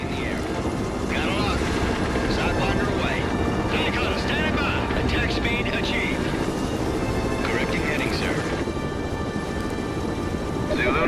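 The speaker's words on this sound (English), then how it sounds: "Parker, radar is picking up several enemy helicopters moving toward Liberty Island." Video game helicopter rotor thrum drones steadily throughout, layered with game effects and voices talking over the constant engine noise, during a battle over Liberty Island.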